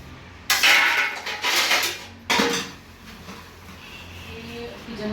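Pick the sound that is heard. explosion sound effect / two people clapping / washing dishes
washing dishes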